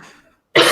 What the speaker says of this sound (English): I coughed up a popcorn seed